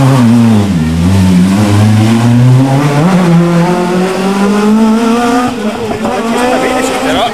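A loud two-wheel-drive rally car engine revs and drones continuously, pitch rising and falling, with voices talking over it throughout.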